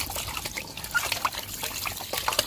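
Water runs and trickles over fish being cleaned, splashing and dribbling close by in an uneven, continuous stream.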